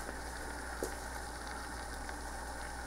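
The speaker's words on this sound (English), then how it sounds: "we got it boiling" Water simmers at a low, steady bubble with a faint hiss and a few soft pops, quiet and close.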